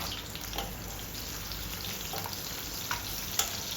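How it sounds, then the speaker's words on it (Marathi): Chopped onions sizzle in hot oil left from frying paneer, giving a steady crackling hiss with scattered pops, close and continuous. "आता याच तेलामध्ये आपण दोन मध्यम आकाराचे कांदे जे आहेत ते मी चिरून घेतले ते मी यात टाकते"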